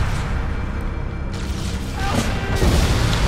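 Booms and crashing blasts from Halo: Combat Evolved gameplay hit loud against a dense, rumbling battle backdrop, with a heavier impact near the end.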